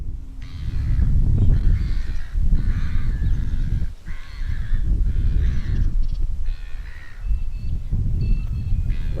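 Birds at the Coorong wetland call in a run of loud, harsh, crow-like caws. The calls come in quick bursts over a constant low rumble of wind.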